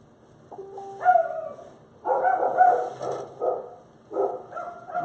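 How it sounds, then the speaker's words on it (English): Several dogs bark in a home, with bursts of yapping that come in three separate clusters, fairly close and moderately loud, and no voices over them. "My dogs are always barking on live."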